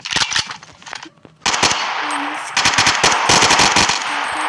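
Rapid bursts of AK rifle fire in a Minecraft gun mod, loud close video-game shots coming in repeated clusters, with short pauses between the volleys.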